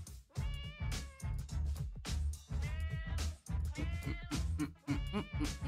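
Cartoonish cat meows from the Party Animals video game, a run of loud, close, repeated mewing calls in quick succession with bleat-like tones, filling the whole stretch without talk.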